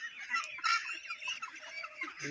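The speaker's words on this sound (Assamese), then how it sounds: "এয়া মোৰ হোৱাইট পেকিং হাঁহ" Young White Pekin ducks on a farm, keeping up soft, continuous close chattering and clucking calls with small overlapping peaks.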